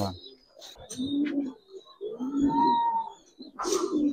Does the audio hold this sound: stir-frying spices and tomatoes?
no